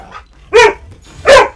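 Two loud, close dog barks about three quarters of a second apart in Fortnite Save the World, each a short sharp bow-wow with a faint yip just before the first.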